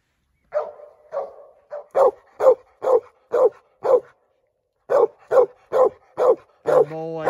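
Hunting dog barking at a treed squirrel: a series of sharp, close barks in irregular bursts with short pauses, ending in a whiny, drawn-out bark.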